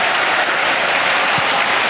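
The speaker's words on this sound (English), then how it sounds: "Crowd trying to get behind Norwich" Thick, continuous applause and cheering from a football stadium crowd at a Norwich City versus Burnley match, a loud, even wash of clapping with no pauses.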